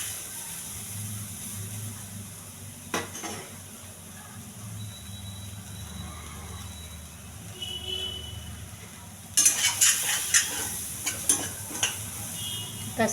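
Moong dal tempering stirred in a pan over a low flame, with chili powder and turmeric mixed into water, giving a soft steady sizzle and scraping that turns into louder, busier clatters and hisses near the end.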